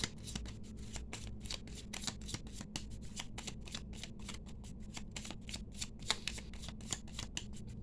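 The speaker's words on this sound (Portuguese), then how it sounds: "então vamos embaralhar aqui as suas cartas" A deck of tarot cards is shuffled by hand in a quiet room. The rapid riffling and slapping bursts repeat close and crisp for several seconds.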